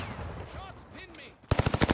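Rapid automatic gunfire erupts in Call of Duty Warzone on Rebirth Island, a tight burst of sharp, evenly spaced shots hitting loud and close after a stretch of quieter game sound with brief voice.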